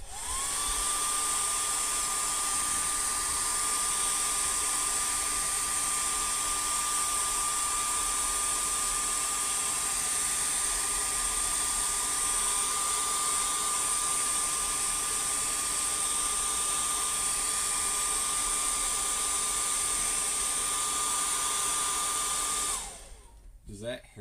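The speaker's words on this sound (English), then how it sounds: "Alright, I'm going to hair dry the bait." A hair dryer drying a painted fishing lure roars steadily at close range with a high whine, running nonstop for over twenty seconds before it cuts off abruptly near the end.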